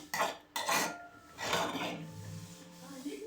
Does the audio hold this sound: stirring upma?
yes